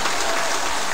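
An audience at a book launch event for presidential candidate Park Geun-hye bursts into thick, continuous crowd applause, loud and steady throughout the short moment.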